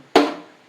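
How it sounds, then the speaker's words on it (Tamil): A single sharp tap on a lump of hardened jaggery syrup set in water, a bright clack that rings briefly and fades, with no talking. "இப்படி இப்படி அடித்தா டங்குன்னு சத்தம் வரணும்"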